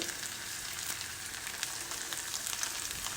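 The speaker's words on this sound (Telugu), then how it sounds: "సన్న ఫ్లేమ్ మీద మంచిగా వేయించుకోవాలి" Shrimp frying in a pan with ginger-garlic paste and curry leaves, a steady close sizzle with faint crackles running unbroken and alone throughout.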